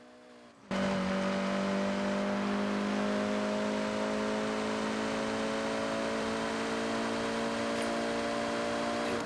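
A car in a half-mile drag race in Forza Horizon 6, its engine starting abruptly and then holding a loud, steady, droning roar with no pauses.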